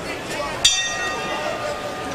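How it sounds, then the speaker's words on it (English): A single sharp clang of a boxing ring bell sounds once, marking the start of round 2 of a 1998 pro boxing bout, ringing briefly over a murmuring arena crowd and chatter. "Interesting scenario by Chuck McGregor as he sends Banks out to answer the bell for round 2."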